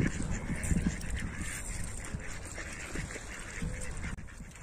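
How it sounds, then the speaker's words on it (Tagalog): Ducks by a river, scattered quacks and low honking calls over a steady outdoor background, fairly faint and somewhat distant. "Magpatoka tayo ng itik."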